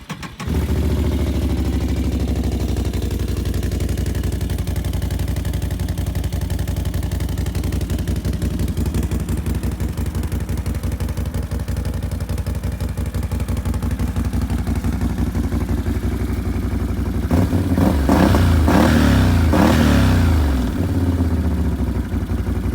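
A warm Can-Am Outlander 570 ATV fitted with a modified exhaust runs steadily at a loud, close idle, then near the end rises into a short burst of revving before settling back.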